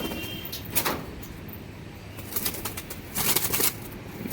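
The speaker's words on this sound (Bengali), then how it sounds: "বিরাট অ্যাগ্রেসিভ দেখুন দাদা, কীরকম খাঁচায় ঢোকানোর সঙ্গে সঙ্গে ছটফট করছে পায়রা।" A pigeon flutters restlessly in a cage, with several bursts of rustling wing flaps and scuffling against the bars, loud and close, and no voices.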